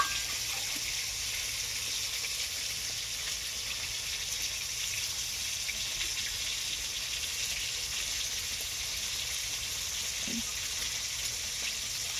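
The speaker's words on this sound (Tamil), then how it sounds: "இப்போ வந்து உருளைக்கிழங்கு கழுவுறாங்க." Potatoes washed under running water, a steady, moderately quiet hiss of flowing water throughout with a faint knock partway, no talk.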